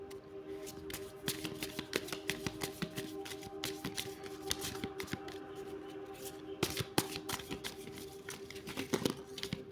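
Tarot guidance cards being shuffled by hand in a quiet room, a soft continuous riffle of crisp card flicks and taps, close and low in volume, with a faint steady hum beneath and no talking.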